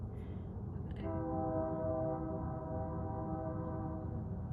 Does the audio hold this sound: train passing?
yes